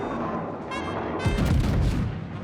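Warship guns fire in the video game World of Warships, a deep heavy boom rolling out beneath a continuous game-engine rumble, loud and close with no talk.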